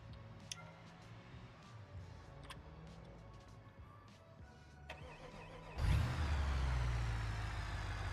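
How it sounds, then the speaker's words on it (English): A V8 mud truck engine of roughly 1400 horsepower in a driving simulation game, first idling with faint ticks, then suddenly revving up loud and deep near the end. "Okay, sounds like your typical V8."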